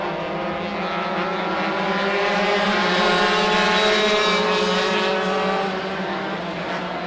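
Race cars run hot laps on the Silver State Raceway road course near Stead Airport in 1994, a loud sustained engine drone that swells as the cars pass close, then eases slightly.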